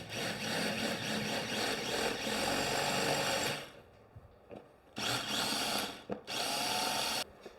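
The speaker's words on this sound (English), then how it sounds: "The rivets we gotta drill out." A power drill bores out rivets on a Camaro, a loud close whirring grind that runs for several seconds, stops, then returns in short bursts with pauses between.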